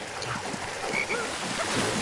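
Frog croaks from the LEGO Harry Potter video game, a few short croaking calls over steady game background sound.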